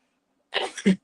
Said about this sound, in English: Oh, I guess we're going to sneeze.